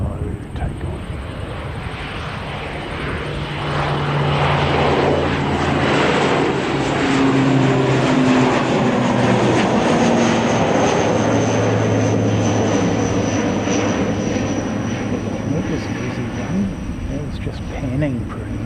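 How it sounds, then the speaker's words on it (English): Fixed-wing airliner taking off low at an airport during plane spotting, a steady, loud engine roar building and holding for the whole stretch, with wind noise and a voice talking over it. "Nice low takeoff."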